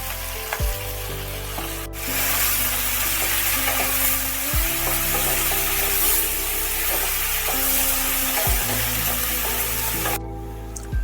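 Spring onions sizzle steadily in hot oil, a loud close frying crackle with periodic scraping stirs from a spatula against the pan, no voices.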